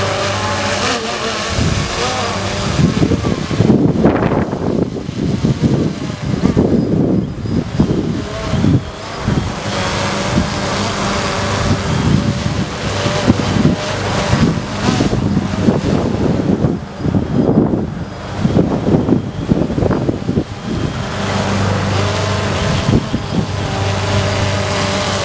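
Strong gusty wind roars and buffets the microphone outdoors near a palm tree while a DJI Phantom drone is flown in high wind, a continuous loud rumble with surging gusts throughout.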